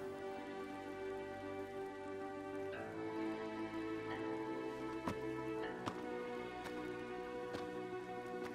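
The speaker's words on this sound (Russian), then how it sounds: "А дождь, он везде одинаковый. Стучит себе и стучит, как дома." Steady rain pattering on surfaces during a heavy downpour, a continuous even hiss with a few sharper drips standing out, moderately close and alone.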